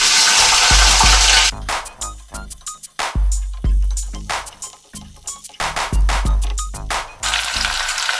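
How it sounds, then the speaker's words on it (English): Onions sauté in oil in a pan for a South Indian garlic curry, giving a bright sizzling hiss. It is broken by repeated clinks and scrapes of a utensil stirring, close and fairly loud. "Saute the onion till it gets a golden brown"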